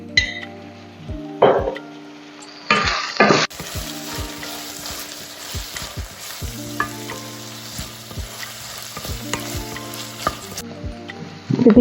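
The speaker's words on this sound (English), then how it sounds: "So I'm going to slowly cook them for 6 to 7 minutes." Onions and ginger garlic paste fry in a kadai with a bright continuous sizzle, while a spoon scrapes and clinks against the metal in irregular strokes throughout.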